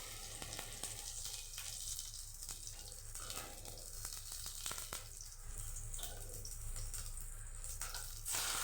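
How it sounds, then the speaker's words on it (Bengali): Pumpkin flower fritters frying in oil, a steady close sizzle running throughout with a few faint kitchen clinks and no talking. "এভাবেই আমি কুমড়ো ফুলের বড়াগুলো ভেজে নেব।"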